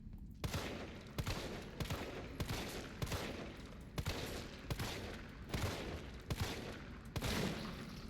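Gunfire in the Resident Evil 3 video game: repeated loud bursts of shots land roughly every second, each followed by a ringing, reverberant tail, with no speech over them.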